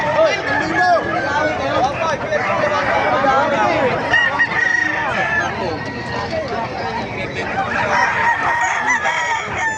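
Roosters crow repeatedly and chickens cluck amid a busy crowd at a poultry market in Bocaue, with people talking throughout over the continuous din of birds.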